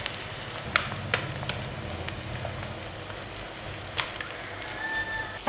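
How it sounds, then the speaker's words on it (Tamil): Egg cracked into a pan with onion and lentils, frying with a soft steady sizzle and a few sharp clicks of stirring, fairly quiet. "இந்த முட்டையை வந்து நம்ம இதில் உடைச்சிருக்கோம்"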